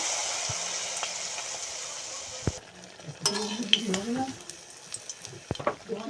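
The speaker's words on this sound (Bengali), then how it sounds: "বাকিগুলো আমি একইভাবে ভেজে নেব" Battered pumpkin flower fritters frying in hot oil give off a steady hiss and crackle that cuts off partway through, followed by scattered utensil scrapes and clinks.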